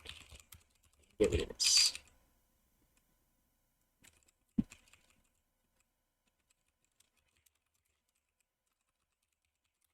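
Brief bursts of typing on a computer keyboard while coding a scripting language in C, a few quick clusters of key presses followed by isolated taps in a quiet room, with a short spoken remark at the start.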